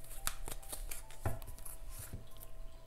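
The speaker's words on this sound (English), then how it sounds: "heart-shaped cards are so difficult to shuffle" Heart-shaped tarot cards are shuffled by hand in a quiet room, giving soft, irregular riffling and papery flicks with a few sharper taps, close and faint.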